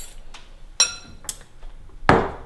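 Pumpkin and sticky bun ingredients are mixed in a bowl with a utensil, making a few sparse, sharp clinks and knocks against the bowl, with the last one loudest and close.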